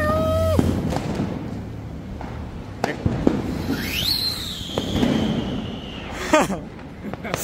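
A Diwali firework launches with a rising whistle, then bursts with sharp cracks and pops amid scattered outdoor bangs, mid-distance and fairly loud.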